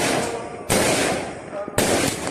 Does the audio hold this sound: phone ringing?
no